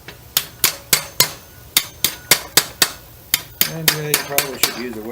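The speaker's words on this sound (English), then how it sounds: "Grab a hammer." A hammer taps a glued dowel joint between wooden boards in a series of sharp, close, evenly spaced knocks, about eighteen strikes with slight ringing, coming quicker toward the end.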